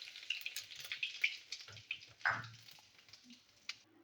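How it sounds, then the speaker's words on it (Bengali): Bay leaves and cumin seeds go into hot mustard oil for a tempering, setting off a soft, crackly sizzle with scattered pops and spits, fairly quiet and close, with no one talking. "তেজপাতা জিরে ফোড়ন দিলাম।"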